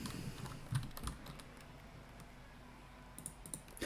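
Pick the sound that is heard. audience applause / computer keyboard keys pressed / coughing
computer keyboard keys pressed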